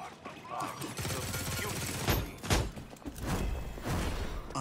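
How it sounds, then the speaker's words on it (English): Rapid gunfire rattles in the Paladins video game, repeated bursts of close shots and thumps over a few seconds, mixed with game effects. "I'm not really sure where the guns are coming out here. Or where the bullets are coming out"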